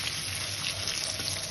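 Onion pieces fry in a pan in a short burst of steady, even sizzling hiss, close and moderately loud, without speech.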